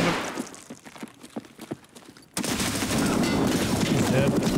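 Gunfire in the shooter game Escape From Tarkov, starting as a string of distant, spaced-out sharp shots and then switching suddenly to a loud, dense, sustained burst of close gunfire, with no talk over it.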